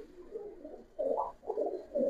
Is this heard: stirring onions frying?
no